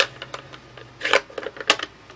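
Paper punch stamping daisy shapes out of card stock: a series of short, crisp clicks and snaps, with two louder punches standing out near the middle and toward the end, close and fairly quiet.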